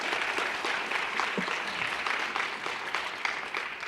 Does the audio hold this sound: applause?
yes